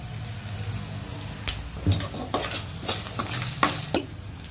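Cumin, green chili, onion and salt frying in a pan with steady sizzling, while a utensil stirs and scrapes in several distinct strokes, close and alone with no talk.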